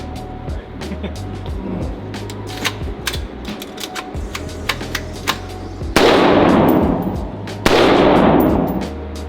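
Gunshots at an outdoor shooting range, a string of sharp, quick cracks in irregular rhythm followed by two heavier, louder booming shots, with people talking lightly in between.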